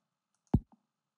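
A single sharp computer mouse click, close and clean, followed by a softer small tick in otherwise silent surroundings.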